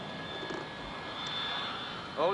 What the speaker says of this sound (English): Plane approaching disembarkation area now.